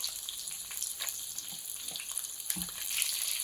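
Onions drop into a hot pan of salmon and begin to fry, giving a steady, fairly close sizzle with a few soft taps and crackles that swell slightly toward the end.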